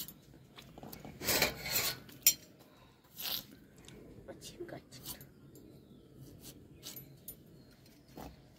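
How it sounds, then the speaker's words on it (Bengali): Knife slicing potatoes for a cauliflower and live pond tilapia dish, heard as a series of short, close rasping scrapes of irregular rhythm, some louder than others, with faint voices in the background. "এখন কাটছি ফুলকপির আলু"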